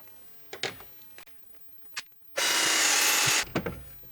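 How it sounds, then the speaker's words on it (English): A power drill whirs loudly into wood for about a second, preceded and followed by a few short knocks and handling clicks. "And let's get drilling."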